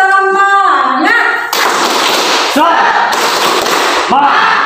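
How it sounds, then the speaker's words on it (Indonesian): Schoolchildren in a classroom perform a rhythmic clapping cheer, sharp hand claps set in patterned bursts between sung and chanted voices, loud and close. "Yuk kita tepuk semangat dulu"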